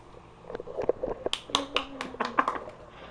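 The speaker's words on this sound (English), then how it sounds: "You can't clap for yourself, Kira." A woman claps for herself in a quiet room, a handful of sharp, separate claps spread unevenly at close range, with faint voice and background sounds between them.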